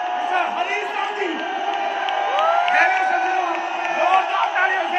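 Crowd at a company anniversary celebration on stage, cheering and whooping loudly and continuously with shouts rising and falling throughout, a dense wash of voices without distinct clapping.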